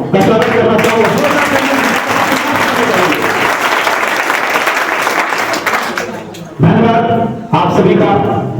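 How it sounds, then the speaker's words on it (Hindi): A loud, dense burst of audience applause at a Basant Panchami and Saraswati Puja program runs continuously, dips briefly, then surges again in two strong renewed waves toward the end. "मैं फिर से आप सबके लिए एक जोरदार तालियों का स्वागत करना चाहूंगा।"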